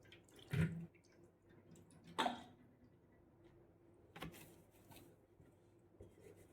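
Water is poured in a few short, soft splashes over a small Laddu Gopal idol during a home bathing ritual. The splashes are spaced seconds apart against a very quiet room.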